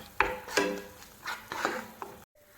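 Chicken pizza filling with chili powder stirred in a pan, a handful of close scraping strokes and soft sizzling scuffs in uneven rhythm, ending abruptly, no voices.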